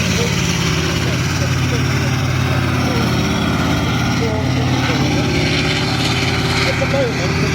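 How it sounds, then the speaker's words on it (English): A Russian T-72 tank's diesel engine drives past, laying a sustained heavy mechanical drone under the clatter of tracks, loud and continuous, with speech faintly mixed in. "Make a simple, well-built, reliable tank, and this one coming on now is the T-72."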